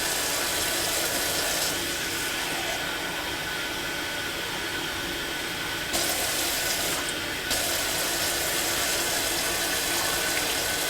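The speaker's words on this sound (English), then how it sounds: "I'm gonna go ahead and start adding some water." Water pouring steadily from a tap into a cooking pot, a continuous broadband rush that carries on without pause for several seconds, with a brief louder surge near the end.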